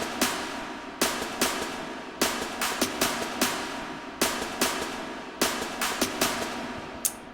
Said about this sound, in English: It's almost like a marching band snare kind of deal.